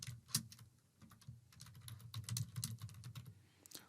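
Rapid, uneven keystrokes on a computer keyboard, close and fairly quiet, with brief pauses between bursts while a workflow name is entered.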